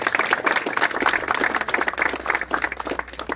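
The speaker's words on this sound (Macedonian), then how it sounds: "еден аплауз, може ли за нив?" Audience at a North Macedonian political gathering applauding newly elected members of parliament: steady, dense clapping from a sizeable crowd, continuous and fairly loud throughout.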